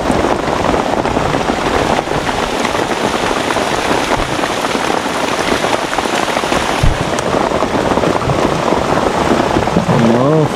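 Heavy rain pours down in a mountain forest, a dense, loud, continuous drumming that stays unbroken throughout, with a faint voice somewhere beneath it.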